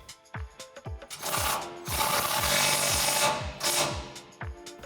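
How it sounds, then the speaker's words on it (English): Rapid clicking of an 18mm ratcheting wrench tightening rear bumper bolts on a 2014-2021 Toyota Tundra, heard in short close bursts and then a longer sustained stretch of ratcheting. "I'm gonna use a 18mm ratcheting wrench to tighten this down."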